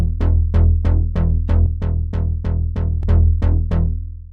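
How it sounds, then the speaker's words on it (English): Synth notes run through a Juno-60 style chorus plugin on its more intense Chorus Mode 2, with the dry/wet mix pulled down slightly: a steady run of about a dozen evenly spaced plucky notes, each decaying quickly, loud and alone. "So swap that over to Chorus Mode 2, which is a more intense chorus."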